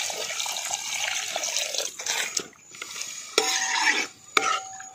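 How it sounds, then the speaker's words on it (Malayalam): Water poured into a pan of whole-fish choora curry and stirred, giving a close running splash that breaks into scraping spoon-on-pot stirring with a couple of sharp clinks near the end. "കുറച്ച് വെള്ളം കൂടെ ഒഴിച്ചു കൊടുക്കാം."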